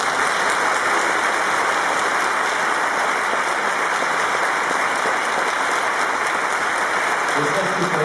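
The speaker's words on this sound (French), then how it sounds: "je voudrais qu'on l'applaudisse" An audience at an evening film premiere gives a dense, steady round of applause that holds at an even level from start to finish.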